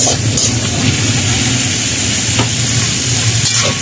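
Pork pieces sizzle steadily in a pan with browned onion and garlic, cooking down until crunchy like chicharon; a continuous close, loud frying hiss with occasional stirring scrapes, no talking.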